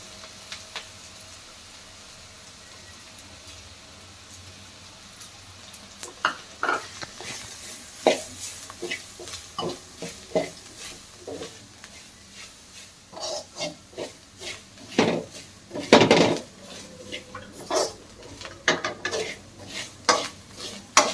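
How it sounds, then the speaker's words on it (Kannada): Grated coconut frying in a pan on a home kitchen stove, stirred with repeated scraping clicks of a utensil against the pan over a soft, steady sizzle, the stirring growing busier and louder partway through. "ಬೇಗ ಫ್ರೈ ಆಗ್ಬಿಡುತ್ತೆ ಕಾಯಿ."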